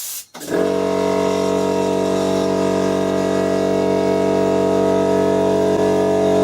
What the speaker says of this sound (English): We have a compressor.